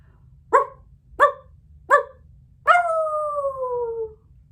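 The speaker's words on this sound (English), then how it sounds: "3 loud barks and a howl." A Dalmatian gives three loud, evenly spaced barks, then a long, sustained howl that slowly falls in pitch, close and clear against a quiet background.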